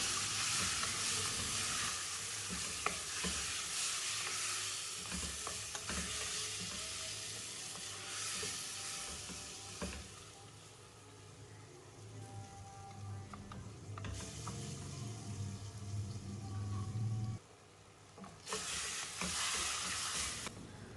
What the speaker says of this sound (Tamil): முதல்ல 1 நிமிஷம் இந்த எண்ணெயிலேயே வதங்கி அந்த மட்டனில் உள்ள தண்ணியெலாம் வெளியில் வரட்டும்.